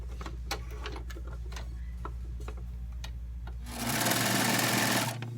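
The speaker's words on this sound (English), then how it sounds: "Now I'm going to take the ends and then sew those up." A sewing machine stitches the ends of a fabric liner for a framed storage box, starting with steady close ticking and then running in a loud continuous whirring burst for about a second and a half.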